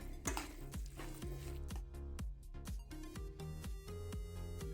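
Minced meat being stirred with seasoning in a bowl, a steady rhythm of repeated soft scraping and clinking strokes from a utensil against the dish, close and clear with no talking.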